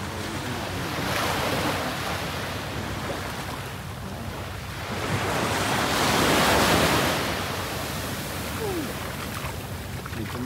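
Ocean waves roll onto a sandy beach at Phu Quoc, two broad surges of surf swelling and receding under steady wind noise, loud and close, with no talking.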